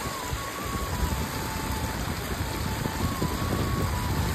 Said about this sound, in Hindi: अभी काफ़ी बारिश हो रही है